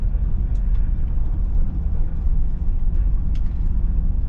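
Interior rumble of a Jeep WJ driving slowly around a neighborhood block, a steady low engine and road drone with faint rattles and clicks over it, with no talking.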